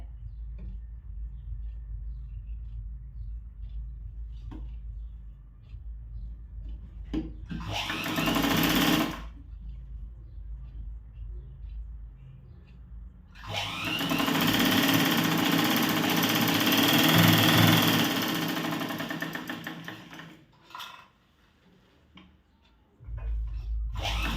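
Sewing machine stitching a straight seam on a blouse with four tucks, running in two loud bursts, a short one and then a longer steady whir, with quiet pauses between and no talking.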